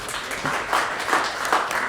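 An audience at a panel discussion on water issues gives a round of applause, with a dense, even wash of clapping hands that swells slightly in waves and continues steadily.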